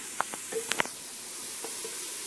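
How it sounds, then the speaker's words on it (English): Minced jarred garlic, about a tablespoon, sautéing in a dry pan with a soft steady sizzle and a few sharp spoon clicks and taps near the start, heard close with no talking. "Okay, we're going to saute this."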